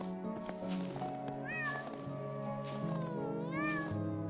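A cat meows twice with drawn-out, wavering cries over a low background drone, faint and somewhat distant in the snowy scene.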